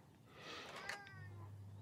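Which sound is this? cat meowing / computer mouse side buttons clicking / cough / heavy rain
cat meowing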